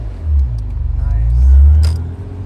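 A car pulling away in first gear, heard from inside as a low engine rumble that rises and swells over about two seconds, with brief talk.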